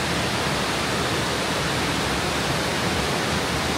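A waterfall at a tourist spot carved into a mountain in China, heard as a constant broadband roar of rushing water, loud and steady throughout with no talk.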